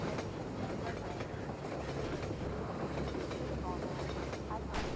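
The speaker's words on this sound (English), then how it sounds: "I hear a moving platform. Some people call it a train" A train in the Half-Life 2 video game rumbles past with steady clattering wheels and a dense metallic roar that stays loud and continuous throughout.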